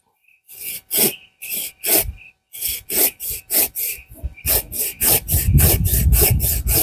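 A sharp hand saw cuts through a wooden block for a chopping board in steady back-and-forth strokes, loud and close, the rhythm quickening toward the end.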